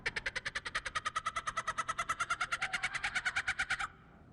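A voice imitates tropical birds, giving about thirty rapid, evenly spaced shrill chirps in a steady pulsing run close to the microphone before stopping abruptly.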